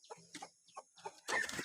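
Chickens on a house veranda give a series of soft, close clucks in an uneven rhythm, ending in a louder, busier burst of squawking; quiet overall.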